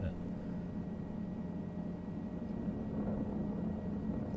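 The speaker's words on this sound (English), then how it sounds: "the rotor sounds of this helicopter are really good" Helicopter rotor in Microsoft Flight Simulator, a steady low droning hum with a faint airy wash, constant in level throughout.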